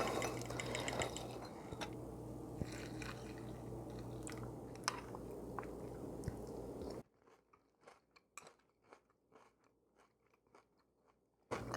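Homemade granola with fruit and nuts being chewed, crisp crunches close to the mic, first over a loud steady background hum, then alone in quiet with distinct rhythmic bites.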